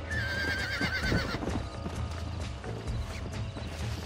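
A horse in Red Dead Redemption with clip-clopping hooves and a shrill whinny near the start, heard close and loud amid background game sound.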